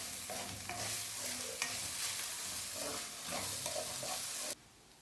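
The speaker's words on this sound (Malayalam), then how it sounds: "മഞ്ഞൾപ്പൊടിയും കുറച്ച് മുളക് പൊടിയും കുറച്ച് മല്ലിപ്പൊടിയും അല്പം ഗരം മസാലപ്പൊടിയും കൂടെ ചേർത്ത് നല്ലതുപോലെ വഴറ്റി എടുക്കാം" Steady sizzling and stirring as turmeric, chilli powder, coriander powder and garam masala are sautéed in a pan for a Kerala meal, continuous and close, then cutting off abruptly near the end.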